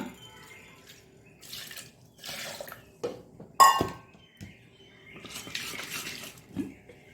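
Water poured into freshly ground mango dosa batter in a Mangalore kitchen, several splashing pours with a clunk of a vessel in between, close and unaccompanied by talk.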